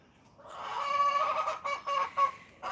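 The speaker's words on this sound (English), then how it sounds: "getting annoyed by the sound of my chickens" Chickens cluck and squawk nearby in a burst of raspy, honking calls that rises, then breaks into short repeated clucks.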